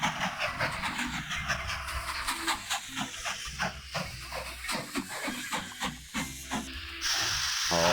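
In the Mashinky train-building game, a steam train chugs along in rhythmic steam bursts over a hissing, rumbling background, with the exhaust puffs repeating steadily and ending in a louder sustained hiss.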